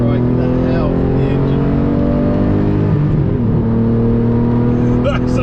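A Lamborghini Murcielago LP670-4 SV engine howls loud and close, a sustained high-revving drone that dips briefly midway before climbing again.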